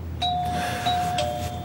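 A doorbell chimes in a home, a clear two-tone electronic ding-dong rung twice with sustained tones, fairly close over a low room hum, no talking.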